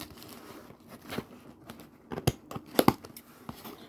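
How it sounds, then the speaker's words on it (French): Small scissors snipping and tearing open a parcel, with irregular sharp cuts, crinkles and rustles of packaging and paper, close and fairly loud, the clearest snaps clustered near the end. "les petits ciseaux."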